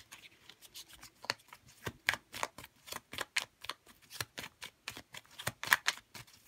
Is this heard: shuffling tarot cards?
yes